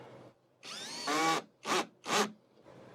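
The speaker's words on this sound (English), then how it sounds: "As we bring the installation driver in, we can get right close there" A Hyper Tough Gen 2 4-in-1 installation driver, model CD0801, whirs in a sharp burst that ramps up in pitch, followed by two short, loud pulses, close up with no talking.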